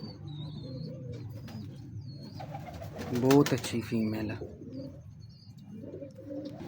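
A female pigeon coos faintly among other loft birds while someone talks over it, with a louder burst of calls midway and soft chirps scattered through.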